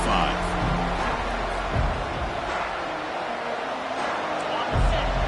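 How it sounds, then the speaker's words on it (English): A steady, loud roar from a large stadium crowd, continuous and distant-sounding, with a voice faintly audible underneath. "this crowd is fired up. Listen to this noise here."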